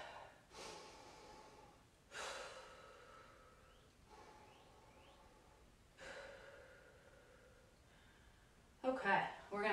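Slow, deep breaths during a plank with leg lifts, a series of about five audible exhales spaced a couple of seconds apart, close and soft, with a brief louder rustle at the end.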